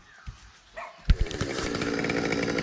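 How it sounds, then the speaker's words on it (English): A chainsaw rumbles while a big cedar tree is removed. The engine starts with a few sharp bursts, then settles into a steady, loud, close running drone with no talk. "Chainsaws today."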